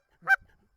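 A single short, nasal honk-like moan blown on a Canada goose call, imitating the sound geese make at takeoff, brief and clear against silence.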